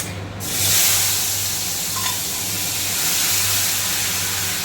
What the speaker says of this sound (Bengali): প্রথমে তিলটাকে ভেজে নেবো একটু।